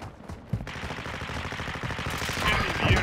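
Rapid automatic gunfire in Call of Duty: Modern Warfare II, a dense rattling burst of shots that grows louder toward the end, with a sharp crack near the start.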